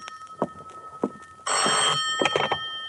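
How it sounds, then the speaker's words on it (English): An old telephone bell rings loudly in one sustained burst, preceded by a few soft footsteps or knocks in a quiet apartment room, heard close with no voices. "my phone rang"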